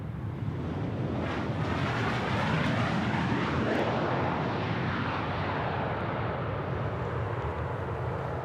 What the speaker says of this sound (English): Oh, it's a WestJet 787.